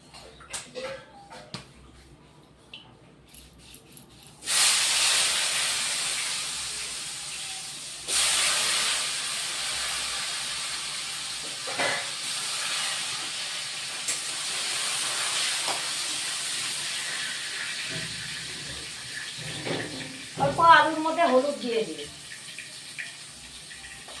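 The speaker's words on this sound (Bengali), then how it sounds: "আলুটা এখন ভেজে নেব অল্প বয়েল করে নিয়েছি এখন আলুটা অল্প ভেজে নেবো" Parboiled potatoes fry in a pan with a loud, steady hissing sizzle that starts suddenly a few seconds in, swells again, and keeps going. A voice is heard briefly near the end.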